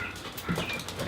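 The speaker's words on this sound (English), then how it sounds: "And now apparently there's a dog going apeshit outside." A dog barking and yelping agitatedly outside, muffled and somewhat distant, in brief overlapping bursts.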